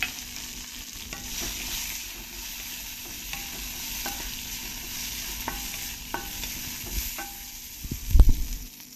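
Tender moringa pod pieces being stirred in a pan, with a continuous low sizzle and intermittent scraping stirs, ending in a louder clatter near the close; no talk.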